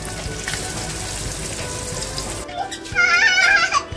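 Rawas fish (Indian salmon) fries with a close, steady sizzle for about two and a half seconds. The frying then cuts off abruptly to a different, louder sound.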